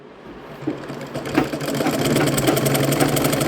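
A sewing machine runs steadily, stitching the lining of a blouse, with a rapid mechanical whir that builds slightly louder midway and continues without pause, close by and alone.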